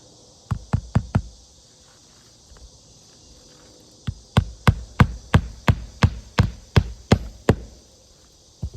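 A hammer drives a nail into a roof shingle with severe granule loss: four quick blows, a pause, then a run of about ten sharp, evenly spaced knocks, loud and close.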